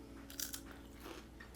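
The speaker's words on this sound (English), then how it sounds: "You can hear how crunchy they are." A few crisp crunches of biting into a crunchy homemade cheese cracker, close up and quiet, followed by soft chewing.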